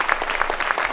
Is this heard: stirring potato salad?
no